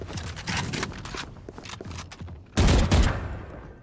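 Gunfire in a Minecraft-style multiplayer video game, a rapid fusillade of loud shots in bursts, ending in a heavier, louder volley of overlapping blasts near the end, with no speech.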